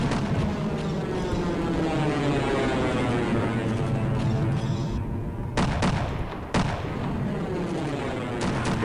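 Heavy gunfire and booming weapon blasts from the Half-Life video game sound loud and continuous, with a brief pause and a few sharp bursts near the end.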